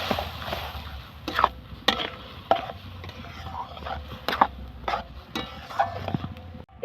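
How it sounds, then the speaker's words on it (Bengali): Carrot paste for gajar kheer malai is stirred in a kadai, a spatula scraping and knocking against the metal in irregular, close strokes over a faint low hum. "এই যে এর মধ্যে আমি গাজরের পেস্টটা দিয়ে দেবো, দিয়ে এইটাকে ভালো করে নাড়তে থাকবে"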